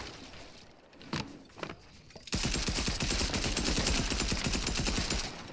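Sustained SMG fire in a video game breaks out after a couple of sharp isolated shots, becoming a loud, rapid, continuous burst that rattles on for about three seconds before cutting off.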